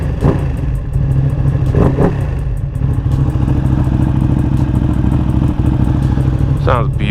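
A special edition Ducati Panigale V2 twin runs close by, its engine note steady and throbbing, with a few sharp rev blips and a quick rising rev near the end.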